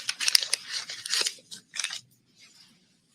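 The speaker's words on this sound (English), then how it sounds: "open the package and take out the strip" A fentanyl test strip package is torn open and the strip pulled out, giving a few close, sharp crinkling and tearing bursts of foil or plastic, then a faint rustle before quiet.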